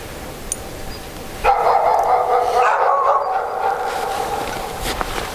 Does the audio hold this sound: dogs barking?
yes